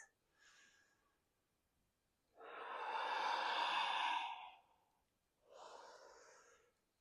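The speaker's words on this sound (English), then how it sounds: "2 more big breaths." Deep breathing during a vinyasa yoga flow comes as three breaths close to the mic. A short inhale is followed by a long, forceful exhale lasting about two seconds, then another breath, with quiet pauses between them.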